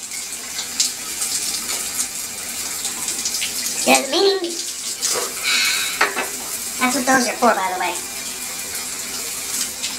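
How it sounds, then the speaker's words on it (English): Shower water runs steadily as broadband spray hiss throughout, with someone talking over it in a bathroom. "Like right now, in the shower."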